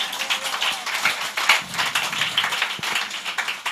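A church congregation claps together during a worship service, a steady crackle of many hands, fairly close and unbroken, with almost no voices over it.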